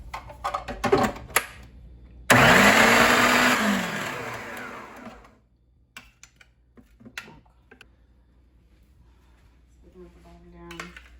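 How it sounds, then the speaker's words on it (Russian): An electric food processor runs loudly for a few seconds, mincing meat for meatballs, its motor whirring steadily then winding down, followed by quiet clatter and brief talk. "Так быстрее я положу в процессор."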